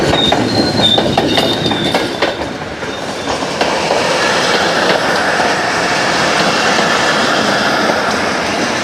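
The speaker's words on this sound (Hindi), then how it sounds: "अभी जो है 48 डाउन रहमान बाबा एक्सप्रेस नूर जंक्शन अप्रोच कर रही है।" Rehman Baba Express, hauled by a locomotive, rolls into Nur Junction in Pakistan, with loud, close rail noise, clattering wheels and squealing high tones over the first few seconds, then a steady rumble.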